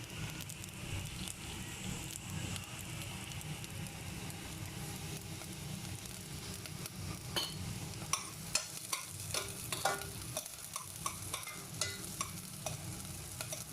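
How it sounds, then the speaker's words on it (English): Cumin seeds sizzling and crackling in a hot pan for peanut chutney, a steady frying hiss with a few sharper pops near the end, heard alone without talk. "I'm adding a little bit of cumin seeds just for flavor."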